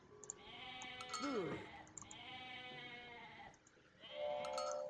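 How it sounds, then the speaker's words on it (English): Goats bleating in the strategy game Age of Mythology, several wavering, nasal bleats overlapping in a cluster with a brief gap, then more bleating near the end, fairly close and clear. "Let's get the goats."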